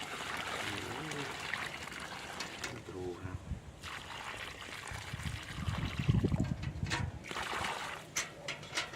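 Water poured from a bucket onto a freshly grafted grapevine, a gurgling splash that builds in the middle, mixed with clanks and rustling, with a short spoken word.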